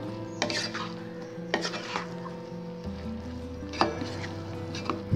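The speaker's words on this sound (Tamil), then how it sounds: "கட் பண்ணி வச்சிருந்த பரோட்டாவை சேர்த்துக்கலாம். இந்த மசாலா கூட நல்லா mix ஆகட்டும்." Chopped parotta being stirred and tossed with masala in a pan for chilli parotta, steady scraping and clattering of a spatula against metal with a few sharp knocks over a low background hum, no talking.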